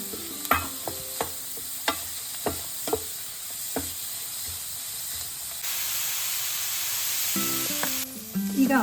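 Green chillies, grated ginger and chopped carrot frying in a pan, a steady sizzling hiss broken by repeated sharp knocks of a spoon stirring, the sizzle swelling louder toward the end.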